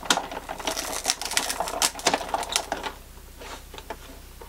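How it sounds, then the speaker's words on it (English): Rapid clacking and grinding of a manual embossing machine as card plates and thin-cut dies are cranked through, busy and close, ending in a softer, steadier rumble. "And then run them through your embossing machine a couple of times."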